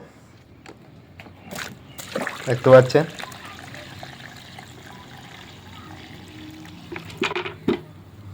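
Water is poured into a bucket of hard cattle feed mash to soften it, a brief splashing pour near the start amid rustling, with someone talking throughout.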